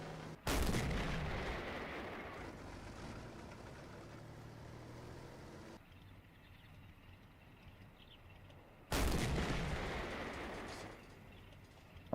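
Tank and artillery fire in a WWII strategy video game, with a heavy booming blast followed by a long rumbling decay, then a second loud blast near the end over a low engine hum.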